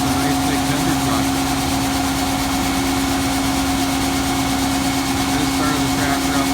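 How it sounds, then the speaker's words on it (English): A farm tractor idles while warming up before spreading urea fertilizer, a steady continuous engine drone with a prominent low hum, loud and unbroken throughout. "Just started the tractor up, let it warm up."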